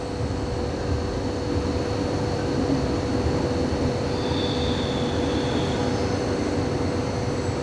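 A train rumbles overhead at a station under construction at Zürich Oerlikon, a steady loud low roar and hum that holds for the whole stretch with no voices.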